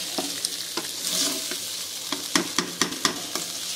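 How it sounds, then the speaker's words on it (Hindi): Spoon stirring chicken frying in a non-stick pan, a steady hiss of sizzling oil with a run of sharp scraping and tapping strokes against the pan, close and fairly loud, with no talking. "चम्मच ग्रेजुअली हिलाते रहना"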